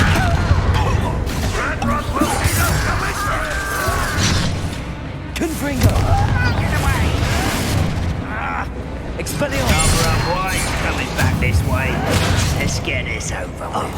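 Confringo blasts in the Hogwarts Legacy game on PS5 land as booming explosive bursts within a dense, loud mix of combat effects and music, with a voice speaking over them.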